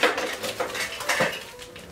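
A spoon clinking and scraping against a bowl while butter and sugar are creamed together, quick uneven knocks and rubs close by, with no voices.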